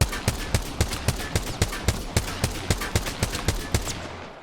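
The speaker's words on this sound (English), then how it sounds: "I'm going to fire against this wall here." Automatic weapon fire against a wall in the Apex Legends video game, a steady evenly spaced stream of about eighteen punchy shots at close range, loud and alone until it stops near the end.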